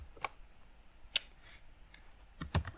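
Computer mouse clicks and keyboard keystrokes while working in Inkscape vector graphics software, heard as a few sparse, soft, close clicks spread across a quiet room with no talking.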